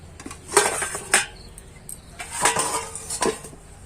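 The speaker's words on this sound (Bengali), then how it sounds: "বন্ধুরা, এবার আমি ঢাকনা খুলবো।" A metal lid is lifted and set down on a steamer pot of bowls of vapa pitha made from puffed rice, giving several sharp metallic clanks and clinks in two bursts with quieter rattling between.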